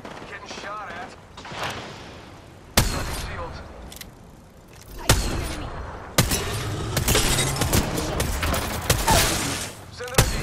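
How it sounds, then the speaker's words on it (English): Bursts of gunfire in an Apex Legends match, with sharp shots and volleys clustering in the second half, loud and close, while players talk over the fighting. "Getting shot at."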